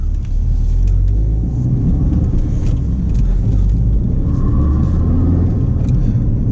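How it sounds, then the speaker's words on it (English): A 2017 Ford Focus RS engine rumbles steadily at close range with a breathy whooshing from an aftermarket AirTech intake layered on top, continuous and loud throughout. "the only modification this car's got is a aftermarket AirTech intake, so that whooshing noise you're hearing is that"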